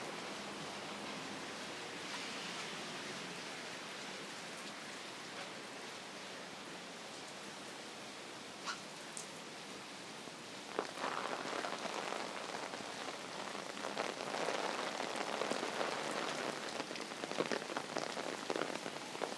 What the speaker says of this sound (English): It's just generally raining